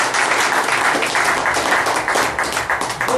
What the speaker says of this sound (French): On applaudit M. Léo Lefebvre.